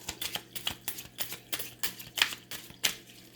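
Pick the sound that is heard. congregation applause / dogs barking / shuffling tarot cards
shuffling tarot cards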